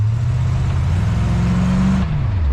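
A 1930 Ford Model A hotrod engine roars up close and loud, its revs climbing steadily and then dropping away sharply near the end as the throttle is released.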